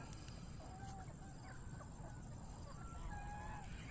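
Chickens on a free-range farm cluck and chirp in short, scattered calls over a steady outdoor hum, moderately distant.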